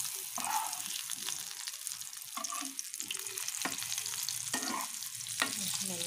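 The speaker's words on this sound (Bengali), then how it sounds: "এবার আলুটাও আমরা সামান্য একটু লাল করে ভাজবো, বেশি ভাজবো না।" Pre-boiled potato pieces frying in oil for an egg and potato curry, a soft steady sizzle broken by regular spatula scrapes and stirring clatter, fairly quiet and heard alone.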